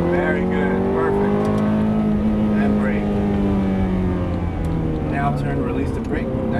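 A Ferrari F430 accelerates hard on the Exotics Racing track in Las Vegas, its engine a loud, continuous harmonic roar that rises and falls in pitch as the throttle is squeezed.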